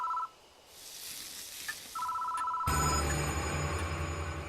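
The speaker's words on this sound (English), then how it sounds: "Phone is ringing." A telephone rings in the Death Mark visual novel horror game: short electronic ring bursts with a pause between them, then a denser, steadier ringing tone that carries on to the end.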